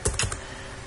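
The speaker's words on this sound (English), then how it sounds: "pardon my typing" A few quick, close keystrokes on a computer keyboard, a brief clattering burst that settles into soft background hum.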